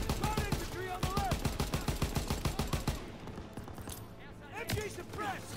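A WWII machine gun pillbox in Call of Duty WWII fires long, rapid automatic bursts, loud and steady. The fire breaks off partway, then resumes briefly under shouting voices.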